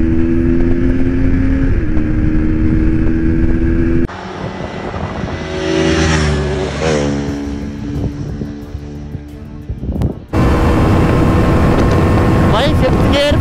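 KTM RC 200 and KTM Duke 250 motorcycles accelerating hard in a drag race, engines droning loudly and climbing in pitch through gear changes, with people talking over the roar.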